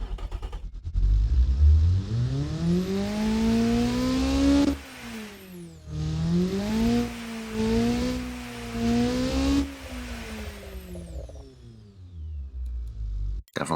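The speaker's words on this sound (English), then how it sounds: "Definitely sounds like a turbo to me" A turbocharged car engine in the car-building game Automation revs up repeatedly, its pitch climbing and falling in several long sweeping pulls with a whistling turbo whine, loud and close, with no talking.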